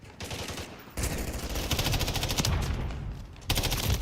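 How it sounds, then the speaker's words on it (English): A remote turret in the Call of Duty Modern Warfare III video game fires sustained rapid bursts, a dense rattling stream of gunfire with short gaps near the start and middle, fairly loud and close. "Friendly remote turret deployed."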